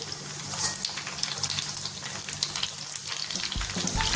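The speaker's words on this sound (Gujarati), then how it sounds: "તેલ ગરમ થઈ ગયું છે પાણીપુરીની પૂરી લીધેલી છે એ તળી લઈશું" Pani puri puris deep-frying in hot oil, a dense, steady crackling sizzle that bubbles continuously and close throughout, with a brief lower bubbling swell near the end.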